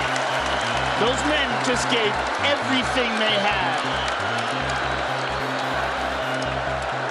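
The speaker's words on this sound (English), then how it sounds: "This crowd is on its feet." A packed arena crowd cheers and applauds after the Diaz vs McGregor UFC fight, a dense, sustained roar heard beneath a commentator speaking over it.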